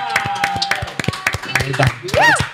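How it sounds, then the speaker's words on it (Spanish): Studio audience clapping for a guest named Ocean on a Spanish-language talk show, brief scattered claps mixed under overlapping voices and a rising vocal sound near the end. "un aplauso a Ocean, señoras y señores"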